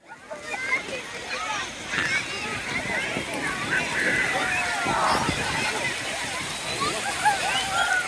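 Seawater splashes and washes steadily along the beach at Blackpool, a continuous loud rush of surf from start to finish, with people's voices mixed in nearby.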